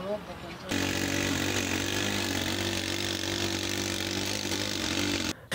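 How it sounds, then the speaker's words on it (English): A homemade helicopter built from scrap metal in Uganda runs its engine with a loud, steady buzzing drone. It kicks in abruptly after a brief moment, holds constant for several seconds, then cuts out, with a voice heard around it. "about to take his homemade chopper for a test flight"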